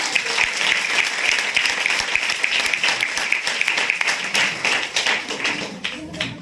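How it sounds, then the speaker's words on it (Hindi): A room of people gives a sustained round of applause, with sharp, loud claps layered together and continuing evenly before thinning slightly near the end. "एक जबरदस्त ताली यहाँ के सिस्टर और सीनियर के लिए"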